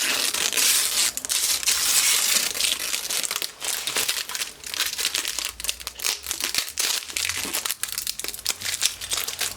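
Protective plastic film and sticker wrap crackling and crinkling as it is peeled off new RIG 500 PRO gaming headphones, with close, continuous rustling and sharp crunchy bursts.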